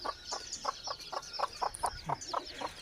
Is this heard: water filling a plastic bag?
no